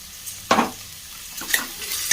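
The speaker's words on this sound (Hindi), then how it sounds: "अब इसमें हम पोटैटो ऐड करेंगे।" Potatoes tumble into a frying pan of cooking onions with a sharp sizzling burst, followed by softer stirring and scraping as frying continues nearby, no talk.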